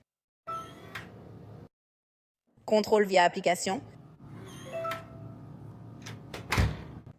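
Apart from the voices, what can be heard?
door slamming shut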